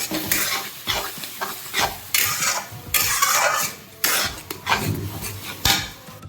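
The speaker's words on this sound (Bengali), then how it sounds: "এবার এই পেস্টটাকে একটুখানি ভালো করে নাড়াচাড়া করে একটুখানি কষিয়ে নেব।" Spice paste for chicken curry is stirred and fried in a pan, with repeated scraping strokes of a spatula over a continuous sizzle, loud and close, in rhythmic bursts.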